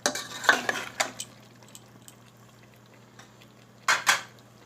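Potatoes and green chillies stirred in a metal pan with a spoon, giving a few scraping, clinking bursts at the start and again near the end, separated by quiet stretches with a low steady hum.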